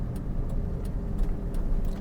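A car engine hums steadily at low pitch while the vehicle makes a right turn on a road, with a continuous rumble and faint ticking of the indicator throughout.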